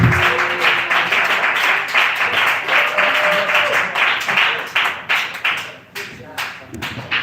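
Audience applause for a comedian at an open mic night, sustained clapping with scattered whoops that thins toward the end into a few separate claps, with a voice talking over it.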